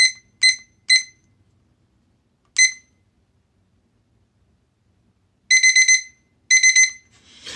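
Antonki digital kitchen timer alarm beeping loudly and shrilly in short bursts, three quick beeps, a lone beep, then two tight clusters of rapid repeated beeps, close and alone.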